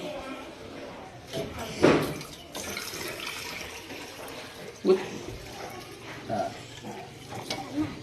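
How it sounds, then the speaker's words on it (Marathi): Water runs and splashes into a one-litre measuring vessel being filled, in bursts with brief gurgles and drips, while people talk over it. "आता बघा 1 लिटर पाणी त्याच्यात तो भरतोय"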